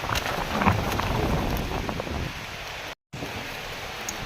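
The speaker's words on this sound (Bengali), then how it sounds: "দেখতে পাচ্ছ বৃষ্টি চলে এসছে" Steady rain falls outdoors among guava trees, a dense continuous patter with some wind buffeting the microphone, fairly loud and close throughout, with a brief dropout near the end.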